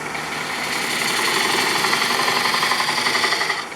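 A wood lathe spins steadily as a spindle gouge cuts an undercut into a wooden mug blank, giving a continuous whirring hum with a rhythmic scraping flutter throughout, close and fairly loud with no talk.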